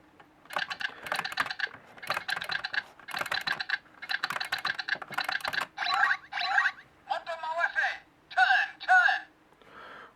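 Morphin Brace toy from Tokumei Sentai Go-Busters with its dial turned over and over, close rapid ratcheting clicks in bursts separated by short pauses, followed by brief electronic toy sounds.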